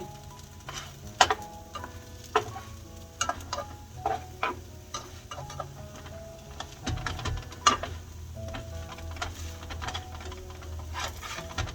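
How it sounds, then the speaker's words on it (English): Potato biscuits fry in a skillet with a steady, soft sizzle, broken by scattered small ticks and clatters from the pan. No one speaks. "We'll let these sit here and fry just a little bit longer."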